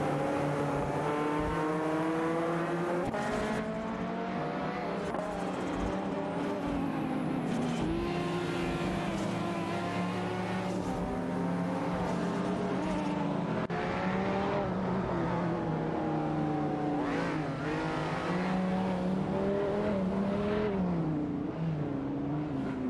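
Race car engines roar and rev in a racing video game with Ferrari 308 GT and Lamborghini cars, pitch climbing and dropping through gear changes as the cars speed by, loud and continuous with no talking.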